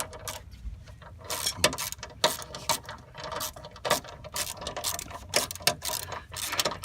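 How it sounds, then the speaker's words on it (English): Small ratchet loosening a bolt on the engine of a 2002 Buick Rendezvous during water pump work, a series of sharp close clicking bursts in an irregular rhythm with short pauses between strokes. "My little baby ratchet, that's all I need, nothing major."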